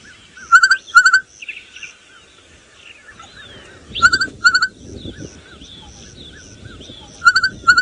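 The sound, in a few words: bokmakierie bird call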